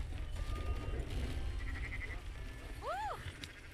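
Sheep bleat in a Red Dead Redemption 2 game scene, a short rising-and-falling cry near the end over a low rumbling ambience.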